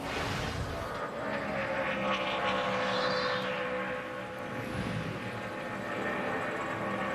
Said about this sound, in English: you can just hear the whistling and the air moving over the car